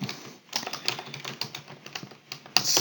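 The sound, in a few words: typing on a computer keyboard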